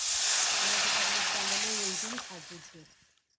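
A loud sizzling hiss bursts up as water hits a hot frying pan for pithla on a wood-fired stove, then fades out, while a voice talks softly over the end.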